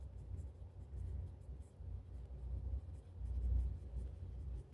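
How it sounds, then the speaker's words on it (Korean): Handwriting while working a math problem, soft continuous scratching of pen on paper close by, steady and faint over a low background rumble. "자세히 써볼게요"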